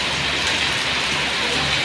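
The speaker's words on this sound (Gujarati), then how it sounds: "ધોધમાર વરસાદ" Heavy rain pours down in a dense, unbroken roar of drops striking surfaces, loud and steady throughout with no voices.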